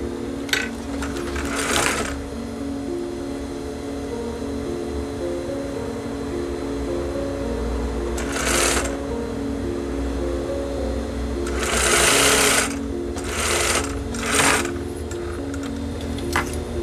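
A sewing machine stitches a hip bag made from recycled denim jeans, a steady close mechanical hum with several louder whirring bursts as the needle runs in short spurts.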